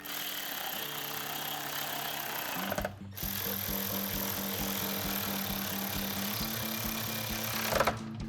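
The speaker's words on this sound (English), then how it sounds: "And then we'll take a 10 millimeter socket and tighten those down." Power tool running steadily and loudly while 10 mm socket bolts are driven into the bumper of a 2022-2024 Toyota Tundra, with a brief pause near the middle before the whirring resumes.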